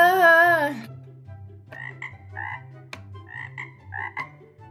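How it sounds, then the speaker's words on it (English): A frog croaks in a short series of distinct, throaty calls spaced out over several seconds, close and fairly clear against a quiet background. "Clark, there's a frog heading to our crops."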